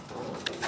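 Pigeons coo softly nearby in a brief burst of low, rounded calls against a quiet background.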